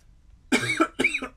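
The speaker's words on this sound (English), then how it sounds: "Pardon my cough." Two quick, close coughs from a man, the second following the first after a short pause, fairly quiet and otherwise alone.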